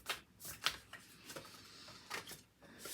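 Oracle cards riffled and shuffled during a tarot-style reading, giving a series of crisp flicking bursts and soft rustles, quiet and close, with no voice present.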